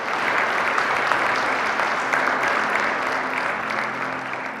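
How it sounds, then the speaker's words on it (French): Applause at a provincial council session: dense, continuous clapping from many hands, steady and loud throughout, with no break. "Un applaudissement unanime."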